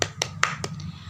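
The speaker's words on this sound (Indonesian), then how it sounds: "Kita beri tepuk tangan." A short burst of classroom applause, a few separate sharp claps in quick succession, thin and close, over a low background hum.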